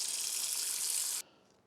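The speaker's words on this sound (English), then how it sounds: "You start by putting about 2 to 3 inches of water in a pot." Tap water runs hard into a pot being filled for steaming artichokes, a bright steady rush up close that cuts off abruptly partway through, leaving quiet room tone.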